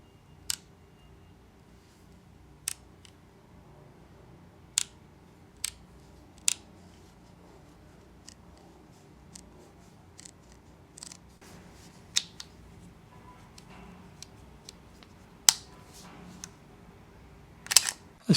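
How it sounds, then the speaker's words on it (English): Sharp mechanical clicks of a Leica rangefinder camera shutter, about ten spaced irregularly across a quiet background, some doubled, close and crisp. "Let's compare the 262 to the M10 shutter."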